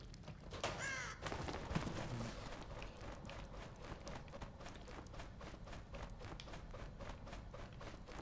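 In the horror video game The Evil Within, a crow gives a few harsh caws near the start. Quiet footsteps or running follow under a low game ambience.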